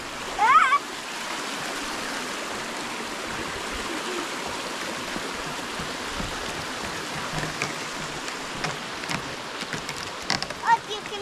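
Prsjak waterfall in Slovenia rushing as a steady broadband roar heard from a viewpoint along a trail, with a brief louder bump near the start and some faint sounds over the flow.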